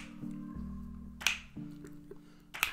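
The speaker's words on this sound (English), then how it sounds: "just the snaps" Sparse, crisp finger snaps in a song: a couple of sharp clicks spaced over a soft, low beat, played back at a modest level.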